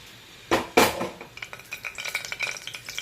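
Cinnamon, cloves and fennel drop into hot ghee and oil in a cooker with two loud clanks, followed by a light sizzle and a rapid run of small metallic stirring clinks.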